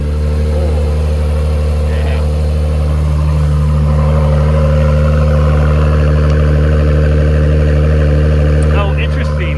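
Acura NSX with a straight-pipe exhaust warming up, a loud steady deep idle droning close by throughout with slight fluctuations in pitch, and faint voices now and then in the background.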